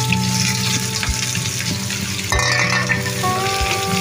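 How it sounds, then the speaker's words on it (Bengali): Chopped onions fry in hot oil in a frying pan while being browned for an egg dish, giving a loud, steady sizzle broken by a few dull knocks of stirring. "পেঁয়াজগুলো এখন ভালো করে ভাজা ব্রাউন কালার করে নেব"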